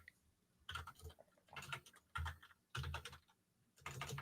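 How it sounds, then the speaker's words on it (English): Typing on a computer keyboard, bursts of quick clicking keystrokes separated by short pauses, close and fairly quiet with no voices. "Wow, typing."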